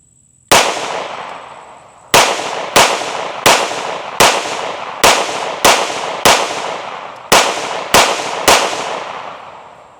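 Ten loud, sharp gunshots fired through an Echelon 4.0C compensator, spaced unevenly about a second apart, each with a sharp crack and a short ringing decay, no talking.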